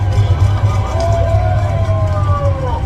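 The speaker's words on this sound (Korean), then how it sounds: "그분들을 위해서 박수 쳐주시기 바랍니다" An outdoor rally audience in Korea claps and cheers in a dense, loud burst of applause mixed with crowd chatter, with some voices rising over the noise.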